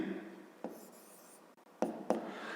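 Pen writing on paper while working a math exercise, faint scratchy strokes with a few sharper taps of the pen, quiet and close.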